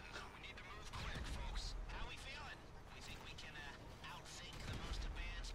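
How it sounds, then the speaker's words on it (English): Mortar barrage in a video game, heard as faint, repeated thuds and crackling impacts running throughout beneath loud, ongoing voices of players talking. "Who's throwing the mortar right now?"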